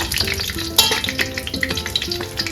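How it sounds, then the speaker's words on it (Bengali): Dried red chillies and bay leaves fry in oil in a wok, a dense steady sizzle with stirring clinks and scrapes scattered throughout, close and fairly loud, with no voices. "আমি কড়াই বসিয়ে দিয়েছি কড়াইতে দিয়েছি শুকনো লঙ্কা তেজপাতা"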